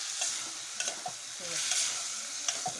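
Eggplant curry frying in oil is stirred with a spoon, giving a steady sizzle under a few light scrapes and taps against the pan, close and fairly quiet, with no speech.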